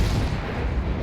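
Warship guns in the World of Warships video game firing at the Myoko, a heavy sustained rumbling boom filling the whole second, loud and low with no voices.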